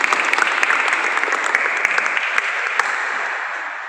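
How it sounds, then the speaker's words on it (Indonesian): Close, sustained applause from a youth church fellowship group in a meeting room: dense, continuous clapping with sharp individual claps popping out, steady and loud throughout, then easing slightly at the end, with no talking over it. "Beri aplaus untuk teman-teman kelompok"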